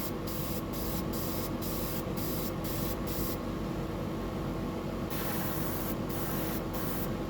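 Spray paint hissing onto a fishing lure with scale markings, a close continuous loud hiss broken by quick pulsed bursts at the start and a few more near the end.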